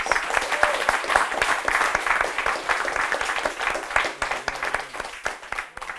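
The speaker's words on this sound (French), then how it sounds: "On applaudit s'il vous plaît pour Amina Tonkis" A comedy show audience in a semi-final round claps for a performer, brisk continuous applause with distinct individual claps standing out near the front.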